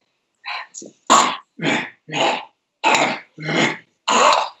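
A human voice imitates an ape's bark-like call, a string of eight short, harsh, throaty barks in quick rhythm, close and loud, some turning slightly growly.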